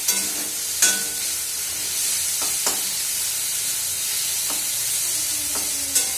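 Leafy greens are stir-fried in a pan, with a close steady sizzle broken by several sharp scraping strokes of a spatula, and no one talking.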